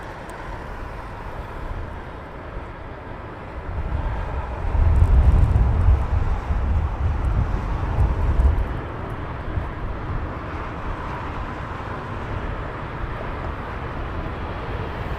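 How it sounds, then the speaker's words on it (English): An aircraft on final approach at Heathrow Airport gives a low, distant rumble that swells mid-clip and then eases back into a steady background roar. "we'll pan around to the aircraft now on final"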